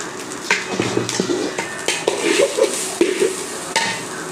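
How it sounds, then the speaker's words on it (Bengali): Chopped onion and green chilli fry for bhuna khichuri while a spoon stirs and knocks against the pot, bright scraping clatter over a light sizzle, close and fairly loud. "পেঁয়াজ কাঁচামরিচ এখন দিয়ে সুন্দর ভেজে নিই"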